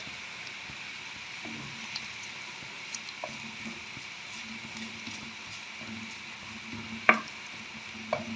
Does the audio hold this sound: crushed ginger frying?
yes